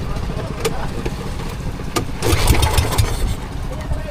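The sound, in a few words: boat engine being started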